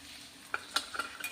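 Sambar masala, red chilli powder and Suhana masala stirred into hot oil in a pan: a soft, steady sizzle with several faint scraping taps of a spoon, quiet and close, no talking.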